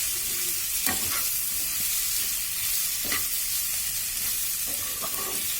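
Chicken sizzles in a pan with curry leaves over a high flame, a steady loud frying hiss broken by a few sharp stirring scrapes.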